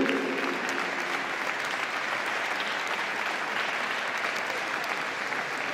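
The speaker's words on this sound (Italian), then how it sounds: "L'applauso è tutto per voi." A concert audience at a 2011 Christmas concert applauds steadily and loudly, a dense, continuous wash of clapping with no pauses, filling the hall without any talk over it.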